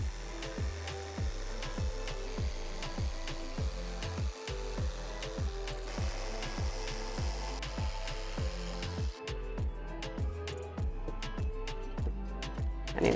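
A jigsaw cuts half-sections of wooden flower shapes in a steady, close, rhythmic rasping buzz that runs continuously with only brief pauses.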